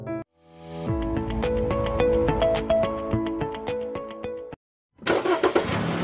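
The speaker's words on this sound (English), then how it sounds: "Car," A car engine cranks briefly, catches and runs with a steady, loud mid-pitched drone for several seconds, then cuts off; another burst of noisy engine sound follows at the end.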